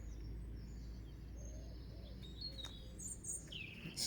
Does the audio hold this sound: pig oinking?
no